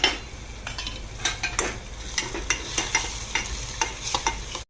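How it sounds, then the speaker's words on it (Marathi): Chopped raw green tomato sautés in hot oil, a steady sizzle broken by frequent scraping strokes of a spatula against the pan, close up and without voices. "हा कापून घेतलेला कच्चा टोमॅटो आपण ह्यामध्ये टाकून घेऊयात। तो छान असा तेलामध्ये परतून घ्यायचा आहे।"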